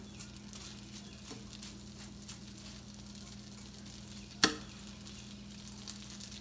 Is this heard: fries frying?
yes